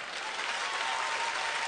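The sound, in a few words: applause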